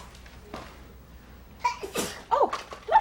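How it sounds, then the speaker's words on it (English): A single loud sneeze bursts out during an indoor play session, with a couple of shorter sharp vocal bursts right after it over quiet room noise. "Oh, big sneeze."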